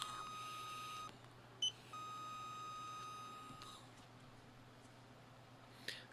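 A DOVPO e-cigarette mod gives off thin electronic beeps, a sustained tone that breaks off and resumes, plus a couple of short blips, faint against a quiet room hum.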